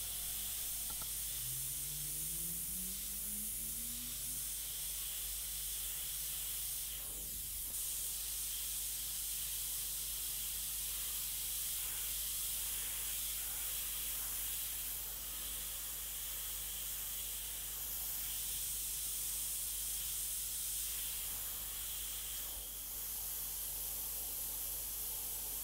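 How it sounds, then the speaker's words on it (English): An airbrush sprays Trident fluoro orange paint onto a Jack-o'-lantern pumpkin, a faint, steady continuous hiss that runs unbroken for a long stretch with small fluctuations and no talking. "we're switching to our Trident fluoro orange, and we're going to re-airbrush in the orange"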